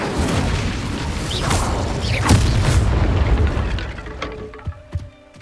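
Incendio fire spell cast in Hogwarts Legacy, a loud whooshing burst with a booming blast that lingers and rumbles for several seconds before fading into smaller pops and clicks.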